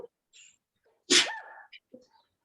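A single loud, sharp sneeze bursts out during an indoor workout class, with brief faint voice sounds just before and after it.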